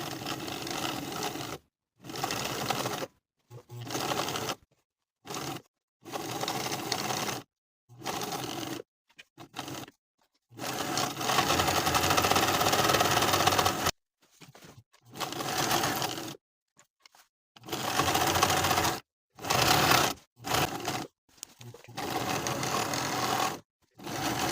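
A sewing machine top stitches around the outer edges of a bow tie collar in repeated bursts of steady mechanical whirring, each run broken by short pauses, close and clear with no voices.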